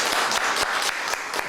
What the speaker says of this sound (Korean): 다시 한번 박수 부탁드릴게요.